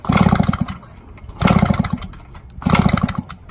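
A 1970 Yamaha HT-1 90cc motorcycle engine is kick-started and runs, firing in three loud, rapid bursts of popping two-stroke exhaust, each about a second long and separated by brief quieter gaps.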